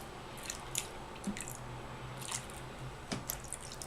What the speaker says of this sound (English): And I'm going to stir in my fragrance.